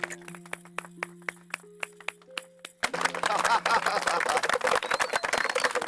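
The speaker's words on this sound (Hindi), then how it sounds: "तालियां!" A stage audience applauds as two young dancers are called up. Single claps mark a slow, steady beat over sustained music, then burst into dense, loud applause that continues to the end.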